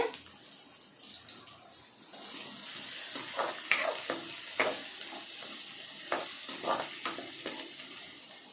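Garlic sizzles and fries in a pan, with a steady hiss broken by scraping stirs and sharp crackles, close and moderately quiet, no voices.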